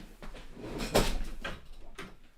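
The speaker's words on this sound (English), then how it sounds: "are you coming in or are you just knocking on the door?" Knocking on a door, heard as a few separate dull thuds spread unevenly over two seconds, with the loudest near the middle, against a quiet indoor room.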